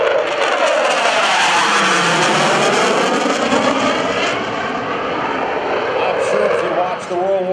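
An F/A-18C Hornet jet flying the overhead break at a Boston Portsmouth airshow roars loudly and continuously, its engine tone sweeping and shifting as it passes, with an announcer's voice over the noise.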